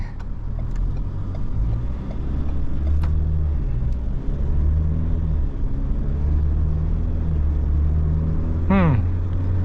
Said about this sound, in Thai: กดคันเร่งไปก็มีกำลังฉุดลากไปแล้ว